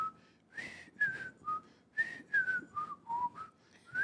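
A person trying to whistle, producing a string of short, thin, wavering whistled notes and breathy blows, close and fairly quiet, alone without talk.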